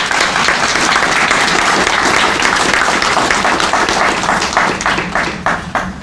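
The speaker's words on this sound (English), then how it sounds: "Can we give her a round of applause, please?" An audience applauds at the opening of a renovated branch library, a loud sustained burst of many hands clapping that stays even before thinning into scattered individual claps at the end.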